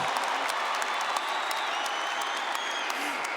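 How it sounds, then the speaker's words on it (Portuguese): Steady audience applause fills a Catholic church, a dense, even wash of clapping that holds throughout with no pauses. "Pode aplaudir, pode aplaudir, pode aplaudir, pode aplaudir, vai aplaudindo"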